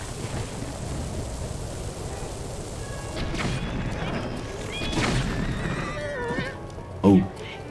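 A horse neighs in the video game Zelda Breath of the Wild, a short whinny rising near the end over a noisy backdrop of game ambience and rumbling, with a voice heard faintly.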